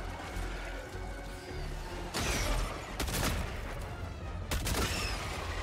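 Crossbow shots fired against medium armor in Helldivers 2, with a few sharp, loud impacts spaced a second or two apart over steady background game noise.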